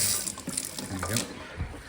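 Water runs steadily from a newly fitted tap into a sink after a plumbing job, a close, continuous gushing splash that eases slightly toward the end.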